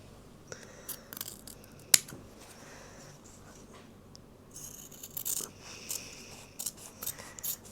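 Scissors snip away excess fabric tape in a few sharp, separate cuts, one especially crisp click near the start and a quicker cluster of snips toward the end, close up and quiet in an otherwise still room.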